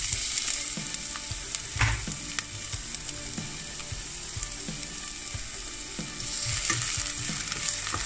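Onion frying in a pot gives a steady close sizzle, broken by repeated scraping and clacking of stirring against the metal, with no talking.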